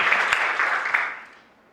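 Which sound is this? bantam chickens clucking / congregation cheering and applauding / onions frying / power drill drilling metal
congregation cheering and applauding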